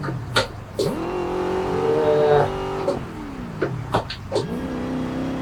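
An engine in a racing video game played on a Logitech G29 wheel with a stick shifter revs to about 6,000 rpm and the clutch drops, with the engine note sweeping up and down through gear changes and a loud steady drone.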